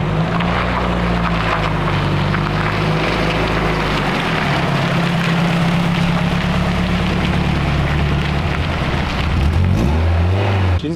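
Loud, close engine drone from a Renault Clio 172, a formerly abandoned car being rebuilt, running while driving, its pitch sliding up and down with revs over constant road noise.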